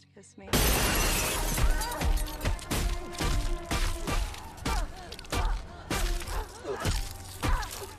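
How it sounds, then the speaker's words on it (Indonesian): Car window glass shattering in a film, a loud burst of breaking glass followed by repeated crashing impacts and thuds with scattered debris, dense and close throughout. "dengan sekonyong-konyong nyerodok kaca mobil Sarah"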